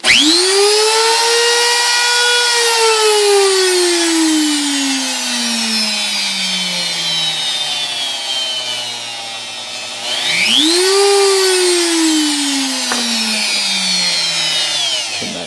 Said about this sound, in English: Let's turn on the spindle.